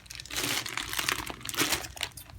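A plastic Ziploc bag crinkles and crumples as it is handled up close, a continuous rustle of varying loudness with no talking.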